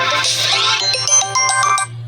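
A phone ringtone plays loudly and steadily for about two seconds, a bright repeating electronic melody signalling an incoming call, with no talk over it.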